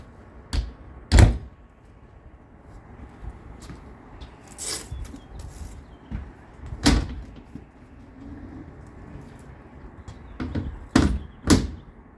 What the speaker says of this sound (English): Then you pull the door shut, pull the handle down, and there is a pin.